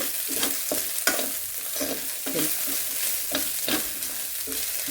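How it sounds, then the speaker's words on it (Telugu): Fresh curry leaves fry and sizzle in hot oil in a pan, a close, steady crackling hiss broken by repeated stirring scrapes about once or twice a second, with no talking. "ఇప్పుడు కరివేపాకు వేసుకోవాలండి కరివేపాకు ఫ్రెష్ది అయితే చాలా టేస్ట్ బాగుంటుంది"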